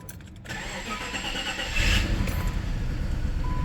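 A car engine cranks and catches, then runs with a steady rough idle that hints at a slight misfire from worn ignition coils, with the sound rising in loudness partway through.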